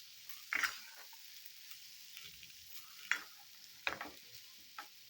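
A spoon stirs peas pulao rice in a pot on a stove turned down to simmer, producing a few soft, scattered scraping strokes, faint and close, with no talking.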